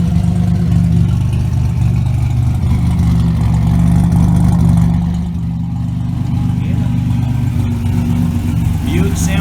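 A 1987 Buick Regal Turbo T with a big turbo and new dual in-tank fuel pumps idles close by, a loud steady low rumble that dips slightly in level partway through, with no talking.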